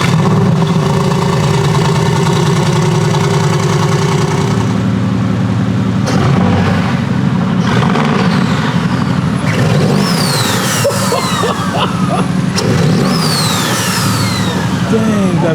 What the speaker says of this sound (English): It's the first cold start with these new exhaust tips, though.